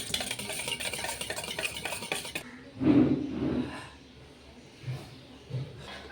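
A spoon scrapes and stirs rapidly through chocolate cake batter with curd and oil in a bowl, a steady swishing that stops abruptly, followed by a few soft knocks and clinks.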